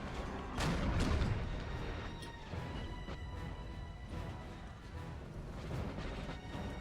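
Cannon artillery in the Napoleonic battle game Napoleon Total War, set at the Battle of Heilsberg 1807: several dull booms and crashing impacts fire irregularly against a constant din of battle, heard at moderate distance.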